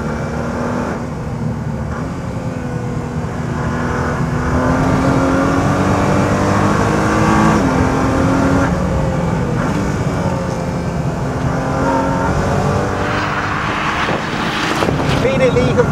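A Nissan Juke-R four-wheel-drive car drives a lap at speed, with the engine droning steadily and rising and falling under constant wind and road noise from inside the cabin.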